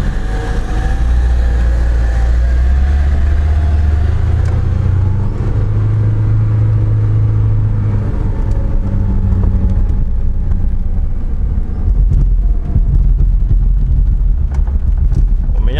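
Lada Niva climbing a sandy hill in first low gear, its engine droning loud and steady with a deep rumble throughout, wind buffeting the microphone.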